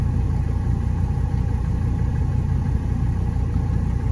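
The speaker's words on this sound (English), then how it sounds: "You heard the blower just kick down, and it's blowing cold again" Steady climate control blower running in a Mercedes 300D W123, a constant broadband whoosh with a low engine-like rumble underneath, even and unchanging throughout with no talking.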